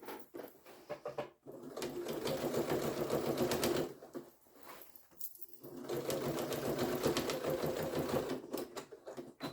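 A sewing machine stitches near the edge of scrap fabric for an Easter basket, its steady rapid whirring running in two long bursts separated by brief pauses, close and clear with no talking.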